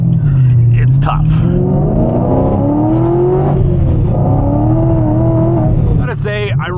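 A 2017 Camaro engine revving while driving, a loud, steady drone with rising and falling pitch as the car accelerates, heard from inside, with a brief burst of speech near the end.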